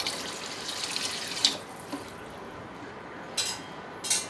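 Water poured from a vessel into rice in the pot of an infrared electric cooker, a soft, fairly quiet splashing stream with a few brief louder splashes near the start and end.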